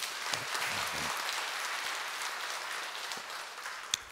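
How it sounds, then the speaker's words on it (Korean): Church congregation applauding together in a sanctuary, a steady dense wash of clapping that holds for several seconds with a sharp single clap near the end. "우리 고생한 여러분들을 위해 박수 한번 격려하겠습니다."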